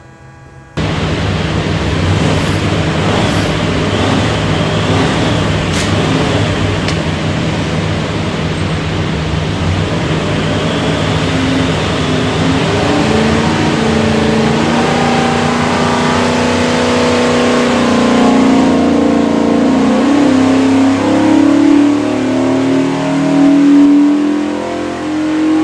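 A 520 hp 427ci small block Ford engine roars continuously on a dyno, loud and close, its pitch climbing steadily as it revs through a full pull for over twenty seconds.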